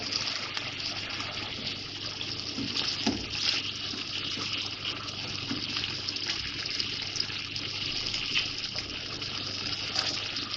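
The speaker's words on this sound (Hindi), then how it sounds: "इस तरह फ्राई करने से फिश के पीस अच्छे से सेट भी हो जाते हैं" Fish pieces shallow-fry in a pan of hot oil for a masala fish curry, giving a steady, even sizzle and hiss with no voices.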